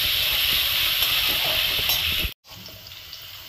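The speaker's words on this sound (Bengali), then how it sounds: "আলুগুলোকে খুব ভালো করে একটু লাল লাল করে ভেজে নিতে হবে" Potatoes fry in hot oil tempered with bay leaf, giving a steady, dense hiss that drops out briefly before resuming more quietly.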